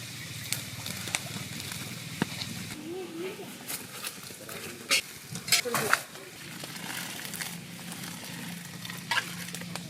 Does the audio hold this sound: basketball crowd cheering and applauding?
no